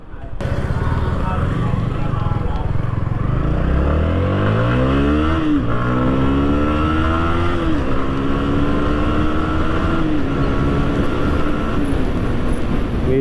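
A Yamaha MT-15 motorcycle accelerates through a U-turn, its engine rising in pitch through repeated gear-by-gear revving sweeps, loud and close throughout.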